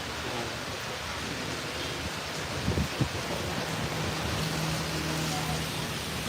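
Steady rain falls in Lahore as a dense, even wash of noise, with a couple of brief dull knocks partway through and no clear talk.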